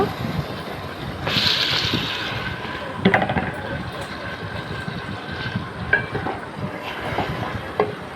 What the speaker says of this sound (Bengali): এবারে কিছুক্ষণ কষিয়ে নেব এই যে কষানো হচ্ছে